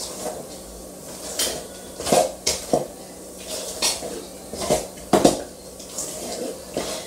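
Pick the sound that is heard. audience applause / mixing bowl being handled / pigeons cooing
mixing bowl being handled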